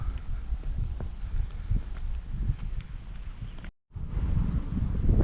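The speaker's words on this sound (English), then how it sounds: "Trying to hold the camera close to my body a little bit because it's a little windy" Blustery wind buffets the microphone in strong low rumbling gusts, briefly cutting out for a moment before the gusting returns just as loud.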